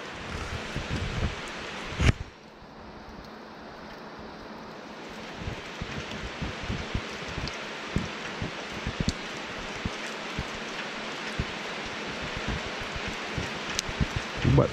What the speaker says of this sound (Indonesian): Lebat hujan ni, daripada subuh tadi hujan lebat.